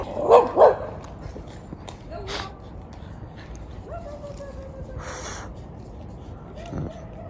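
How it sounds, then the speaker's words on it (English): A guard dog gives two sharp, loud barks at the start, then a few quieter yips and whimpers, against a faint outdoor night background with occasional voices. "And the dog's coming."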